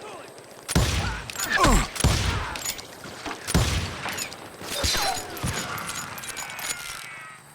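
Western-style gunfire from the video game Call of Juarez: Gunslinger: a string of loud, sharp shots arriving in irregular bursts over several seconds, some close and heavy, with ricochet-like whines and clattering debris between them.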